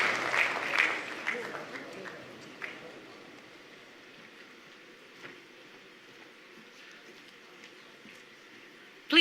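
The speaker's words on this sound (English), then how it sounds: "Please join me in expressing once again our sincere appreciation with a warm round of applause." A hall at the opening of the 2025 Afreximbank annual meetings fills with applause that is loud at first and then fades to scattered claps and a quiet room.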